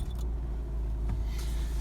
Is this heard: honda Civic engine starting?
yes